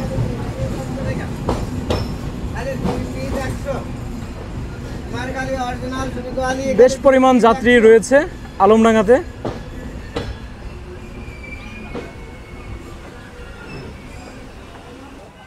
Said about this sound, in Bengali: সকাল 10:34 আমাদের ট্রেন প্রবেশ করলো আলমডাঙ্গা রেলওয়ে স্টেশনে